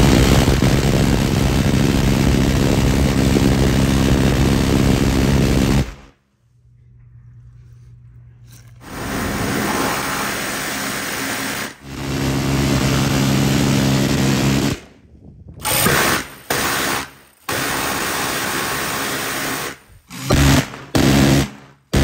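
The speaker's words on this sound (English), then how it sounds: "We're gonna see if we can cut her in half with the minigun here." Minigun loaded with blue-tip plastic training ammunition fires in long, roaring continuous bursts outdoors, each burst a dense buzzing wall of sound, separated by short gaps and ending in several brief spurts.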